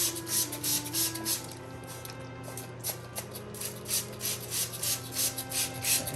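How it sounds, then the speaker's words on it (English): A spray bottle squirts 3% hydrogen peroxide onto orchids during repotting in a quick, steady series of short hissing bursts, close by, over a faint low hum with no talking. "I'm gonna spray them with the hydrogen peroxide again"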